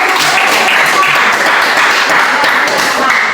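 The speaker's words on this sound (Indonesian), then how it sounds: "tepuk tangan dulu." A classroom of children applauding together after a prompt from their teacher, a dense steady patter of many hands clapping close by at even loudness throughout, with a few voices mixed in.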